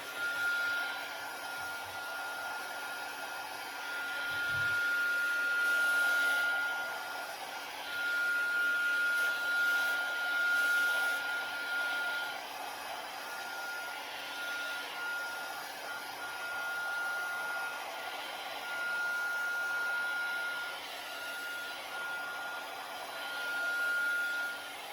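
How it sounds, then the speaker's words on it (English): A heat gun blows continuously while drying damp paint on a wooden sign, a steady whooshing hum with a faint high whine, swelling slightly louder at moments as it is moved closer. "I'm gonna use my heat gun just to get it a little bit so it's not so damp"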